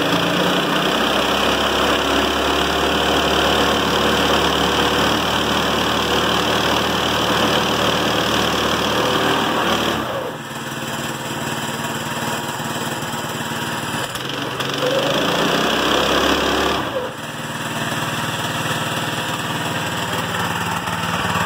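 A small cart engine runs loud and close, a rough buzzing drone with rising revs that dip sharply twice and climb again as it is pushed for tire smoke. Nobody speaks.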